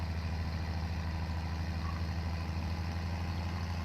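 A vintage engine in a museum idles with a steady low rotary drone. It is loud, constant and close, with no voices.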